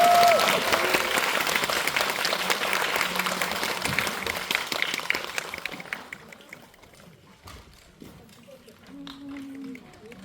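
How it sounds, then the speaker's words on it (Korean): A cinema audience at a film Q&A screening breaks into loud, sustained clapping that gradually thins and fades, with a voice speaking briefly near the end. "세 분께 박수 드리면서 오늘 자리에 나오겠습니다"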